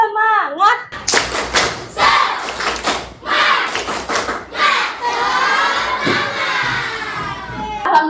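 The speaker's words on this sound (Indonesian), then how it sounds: "Ibu mau kita tepuk semangat dulu supaya lebih semangat hari ini" A classroom of children performs a rhythmic clapping chant, loud bursts of claps and shouted voices in short bouts, then a sustained group vocal, with a teacher's voice at the start.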